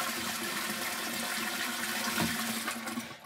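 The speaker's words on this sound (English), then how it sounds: "A really important thing is that when you flush," A model T500 toilet flushes in a single room at a film college: a continuous loud rush of water that swirls and drains, tapering near the end.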